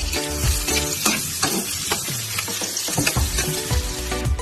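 Garlic, following onions, sizzles and fries steadily in a hot pan for adobo sa gata, with repeated scraping stirs of a utensil against the pan over the continuous crackle, no talking.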